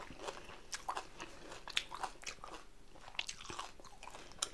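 Raw onion bitten and chewed with spicy dried tuna fish thokku: close, quiet crunches and wet chewing repeating steadily, with no talk.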